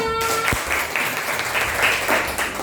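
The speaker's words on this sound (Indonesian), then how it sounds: "Tepuk tangan untuk kita semua" Students in a classroom break into applause, a steady wash of many clapping hands, close and fairly loud, starting right after a brief tone and continuing throughout.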